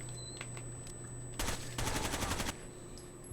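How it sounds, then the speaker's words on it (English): UMP-45 submachine gun firing in Rainbow Six Vegas 2, two close, loud bursts of rapid automatic shots, a short burst followed by a longer rattling string, over a quiet game background. "And of course I'm using the UMP-45, so medium base SMG."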